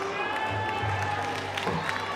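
A table tennis crowd at the South African Open roars steadily with cheering and applause, a dense continuous wall of sound filling the hall.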